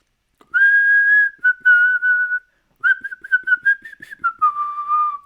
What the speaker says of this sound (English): I'm terrible at whistling, as I am at singing